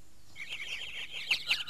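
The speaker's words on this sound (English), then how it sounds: "in a tree nearby the house, some birds began their chorus" A small group of birds sings in a tree near a house, bright chirps and rapid twittering calls that grow busier toward the end, fairly close and clear with no talk.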